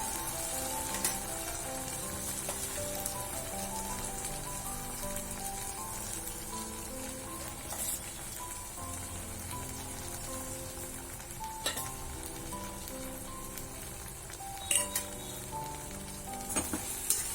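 Stuffed okra with masala sizzles and fries in a pan while being stirred, a continuous crackling hiss broken by occasional sharper scraping stir sounds.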